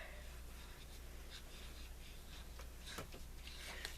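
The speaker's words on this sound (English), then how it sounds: "So I'm just gonna write camp" Pen strokes scratching across scrapbook paper while lettering a label, faint and close, short scribbling bursts over a steady low hum.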